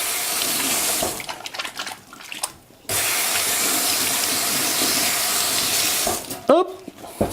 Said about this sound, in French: Donc là, on va faire une utilisation normale. Hop, je vais me laver les mains.